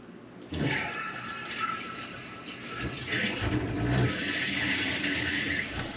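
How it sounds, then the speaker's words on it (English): A well water pump switches on and water rushes into previously frozen household pipes, a sudden onset followed by a steady gushing hiss and gurgle, close and continuous. "All right, I'm gonna turn that pump on."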